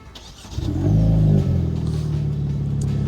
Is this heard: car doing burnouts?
yes